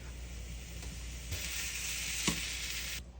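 Chorizo sizzles in a pan over medium-high heat as a steady, dense hiss with a few faint clicks of stirring. It runs without talk and cuts off near the end.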